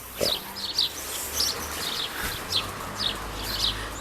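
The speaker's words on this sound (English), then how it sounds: "I've got sort of lots of baby sparrows, and this morning we had some baby blackbirds" Baby sparrows and blackbirds chirping outdoors in a garden, a series of short high chirps repeating roughly every half second over soft background noise, with no talking.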